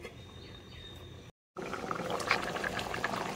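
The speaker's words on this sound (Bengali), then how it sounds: "দেখো ঝোলটা আমার ভালোই ফুটে উঠেছে" Potato curry broth bubbling in a covered pot, a steady close simmer with a brief dropout partway, then continuing bubbling and sputtering alone.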